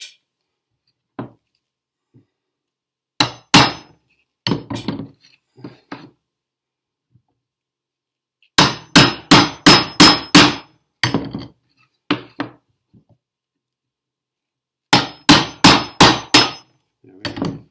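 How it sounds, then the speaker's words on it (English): Hammer blows drive a chisel into wood while shaping a phone or tablet holder: loud, sharp strikes in quick bursts of four to six, separated by pauses and a few lighter single taps, with no talking. "Now we can go back and do our chiseling technique."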